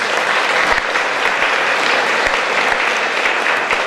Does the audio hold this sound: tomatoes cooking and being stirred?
no